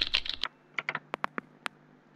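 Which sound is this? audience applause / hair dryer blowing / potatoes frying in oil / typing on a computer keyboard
typing on a computer keyboard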